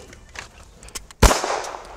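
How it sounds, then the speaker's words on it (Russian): A single loud, sharp pistol shot fired at a target on a shot-timer signal in a practical shooting drill with a holster draw, cracking out after near silence and leaving a short ringing tail. "По сигналу таймера выхватывание оружия из кобуры и стрельба по мишени"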